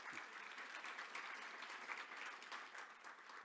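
Audience applause fills a conference plenary hall, steady dense clapping from a large crowd that holds at an even level throughout without pause.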